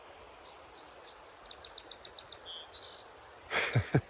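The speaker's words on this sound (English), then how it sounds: "We have blackbirds right above us." Birds sing overhead in bright, rapid chirps and trilled phrases against a quiet outdoor background, followed by a short burst of rustling at the end.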